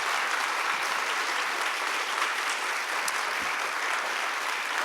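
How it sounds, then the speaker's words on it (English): Steady, dense applause from an audience at an in-person conversation event, sustained at an even level throughout with no voices over it. "Please give him a round of applause."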